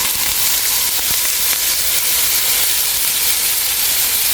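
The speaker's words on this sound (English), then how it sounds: "But I wanted to go ahead and sear off my corn" Corn kernels searing in a hot pan for white chicken chili chowder, a loud, continuous sizzle and hiss close up, with a few sharp pops and crackles and no talking.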